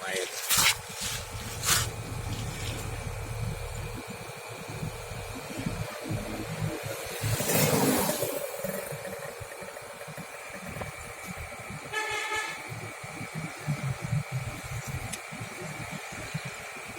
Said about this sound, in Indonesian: Dengarkan lagi, suara mesin masih bagus, insya Allah masih normal